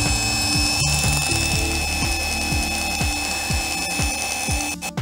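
A fishing reel's ratchet clicks loudly and rapidly in a steady, repeated pattern as an amberjack pulls line out at sea, the sound close and continuous with no voices.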